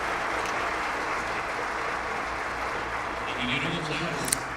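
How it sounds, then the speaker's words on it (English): Audience at a mining conference closing ceremony applauding steadily, a dense wash of clapping heard throughout, with a voice over a speaker system faintly near the end. "Big round of applause for her,"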